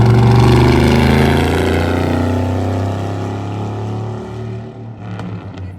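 A 150-horsepower car engine revs hard at a car meet takeover, loud and close. The roar holds steady, then slowly fades and drops away toward the end.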